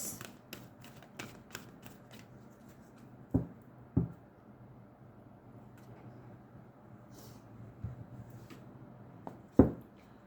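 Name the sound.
shuffling tarot cards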